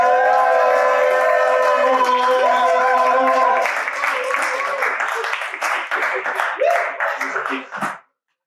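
Studio audience applauds and claps loudly for a Jerusalem performer being introduced on a rap show, with musical tones and a cheer sweep over the first half, then dense clapping that fades out near the end.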